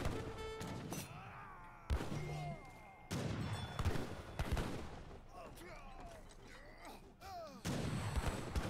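Rapid gunfire and volleys crackle from a battle in Age of Empires III, Lakota against Dutch, fought under town center fire, with bursts of shots and impacts repeating throughout while a commentator talks over the fighting.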